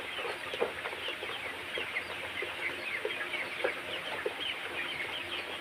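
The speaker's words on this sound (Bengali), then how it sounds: "আমাদের মুরগিগুলো, এখানে 800 পিস মুরগি আছে।" A flock of colour bird chickens, about 800 birds, cluck steadily on a farm, a dense continuous chorus of overlapping clucks with occasional louder calls and no talking.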